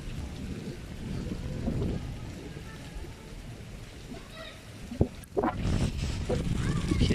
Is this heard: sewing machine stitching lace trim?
no